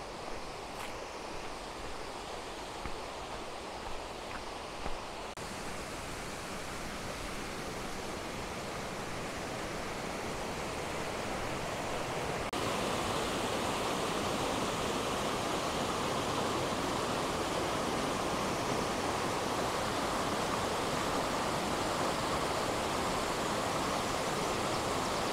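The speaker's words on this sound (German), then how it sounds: "Und hier komme ich gleich am Wasserfall vorbei." Waterfall beside a hiking trail in the Passeier Valley, a steady broadband rushing roar that swells louder as the walker draws near, continuous and without speech.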